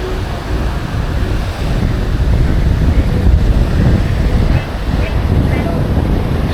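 Surf breaking and wind buffeting the microphone on Canasvieiras beach in Florianópolis, a steady loud wash of waves with no pauses throughout.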